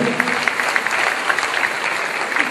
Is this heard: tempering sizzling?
no